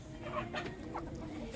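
Chickens on a small farm cluck softly in a few short calls, close by and quiet, with no talk over them.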